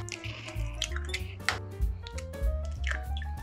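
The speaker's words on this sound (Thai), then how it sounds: "ใส่ไข่3ฟองค่ะ" Eggs go one after another into a bowl of fudgy brownie batter, giving wet plops and soft dripping sounds with a few light clinks, close by and without speech.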